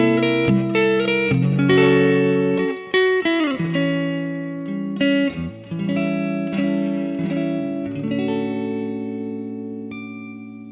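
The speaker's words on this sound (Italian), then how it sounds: "quello che senti è stato registrato tutto con un Vintech Buff Boost" Electric guitar run through a Vintech Buff Boost booster pedal into an amplifier, playing loud, sustained overdriven chords and single notes with a few brief pauses and ringing decays, alone with no talk.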